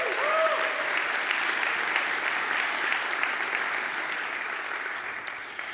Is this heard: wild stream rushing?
no